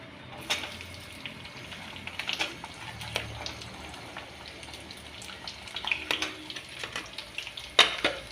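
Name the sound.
onions frying in hot oil with bay leaf and spices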